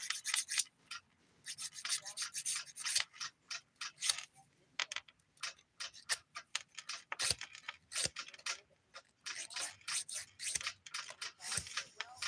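Acrylic being filed off a fingernail during a dip powder manicure, a run of short scratchy rasping strokes in quick irregular bursts, close up and fairly quiet, with no talking.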